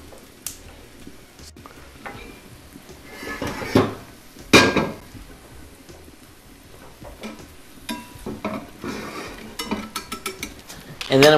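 A cooking pan is shifted from one stove burner to another in a home kitchen, giving a few scattered metallic clanks and scrapes of cookware on the stovetop, close and moderately loud with some quieter handling between.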